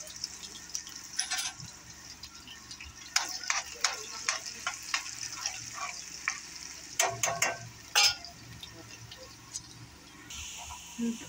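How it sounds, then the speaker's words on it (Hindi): Garlic sizzling in plenty of hot oil for sarson ka saag, a steady crackling fry broken by sharp scraping clinks of stirring, close up and with no voices. "अब हम लहसुन भून लेंगे।"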